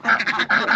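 A duck quacks at a large city farm in London, a quick run of loud, close quacks in rapid succession with no talking.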